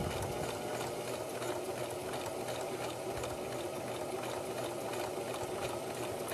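A sewing machine top-stitches a fabric phone charger case, running in a continuous, close, steady whirring drone with no pauses.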